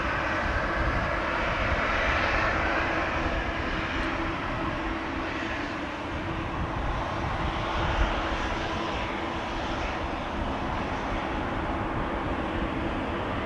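A 24-year-old KLM airliner on flight 1431 at Amsterdam Schiphol Airport on a windy day, its engines giving a continuous broad roar at moderate distance that stays steady throughout.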